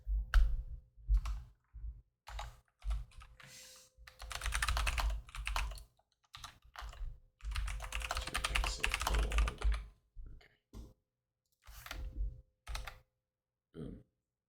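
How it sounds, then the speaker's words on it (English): Quick bursts of typing on a computer keyboard while working with Git at the command line: close, crisp key clicks in short runs separated by pauses, with no voices. "Oh, hit Q to exit."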